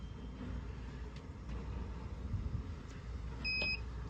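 A Sprite Quattro EB caravan control panel gives a single short electronic beep near the end, quiet and clear over a faint low background hum.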